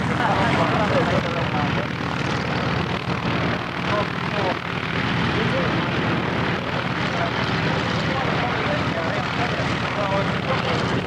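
A warbird aircraft passes with its landing gear down on approach to land at an air show, a loud continuous engine drone filling the air while an announcer talks over it.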